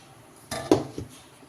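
Bowls and pans being handled in a home kitchen while making a rava cake, with a few close, brief clatters and knocks in quick succession and no talk.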